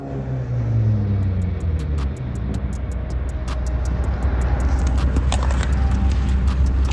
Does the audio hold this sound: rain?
no